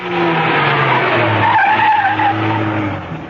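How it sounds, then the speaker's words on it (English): A car skids to a stop with a loud, drawn-out tire squeal over engine noise, a single continuous screech lasting about three seconds as a radio drama sound effect, no voices. "Outside the building, she swung the car to a stop."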